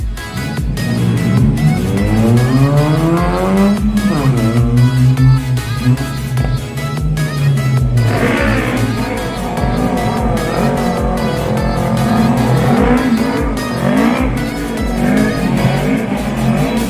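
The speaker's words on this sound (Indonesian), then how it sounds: "dengan mengendarai kendaraan Honda Brio adalah driver atas nama Dika." A Honda Brio performing slalom and freestyle wheelie stunts at a Bhayangkara off-road event, engine revving with long sweeping tire squeals and skids that rise and fall, loud and continuous throughout.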